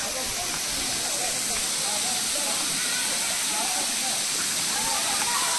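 Hati Ganda waterfall, passed while travelling from Koraput toward Andhra, gives a steady, dense roar of rushing water that stays loud and unbroken throughout.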